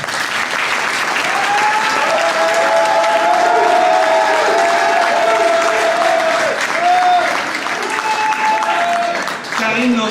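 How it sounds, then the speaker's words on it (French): Crowd at a French departmental election victory gathering claps loudly and continuously, with some cheering and voices mixed into the dense, close applause for about ten seconds. "vous pouvez applaudir."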